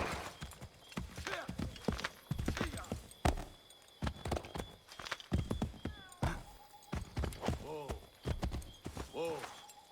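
Horse hooves clip-clop in a steady walking rhythm in a video game, close and distinct, with a few whinnies and snorts near the end.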